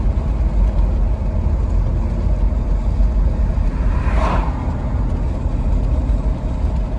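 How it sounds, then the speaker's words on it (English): Road noise inside a 2007 Cadillac Escalade driving over rough pavement, a steady loud low rumble and roar throughout, with one brief brighter thump partway through. "That noise is probably the road."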